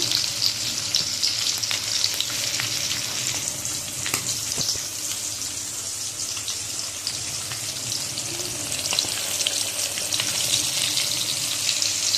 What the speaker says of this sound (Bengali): এই যে এদিকে ইলিশ মাছগুলো ভাজতে দিয়ে দিয়েছে